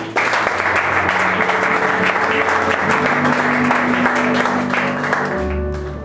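A church congregation breaks into loud, sustained applause for the Lord, thick continuous clapping with sustained instrumental tones underneath that swell near the end.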